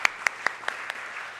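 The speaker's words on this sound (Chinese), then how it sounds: "我们拍手来鼓励他们。" A church congregation claps in unison during a Sunday worship service to cheer on scholarship students: five sharp, evenly spaced claps in a steady rhythm, with no talking.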